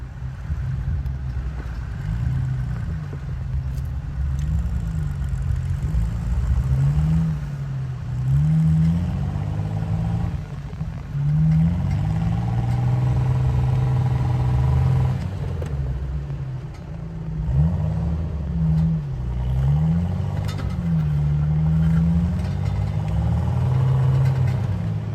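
A new Jeep Wrangler JL climbs a difficult snowy off-road section of the Firebreak 5 trail in Oregon, its engine droning loudly and steadily with repeated rising revs and surges, no voices.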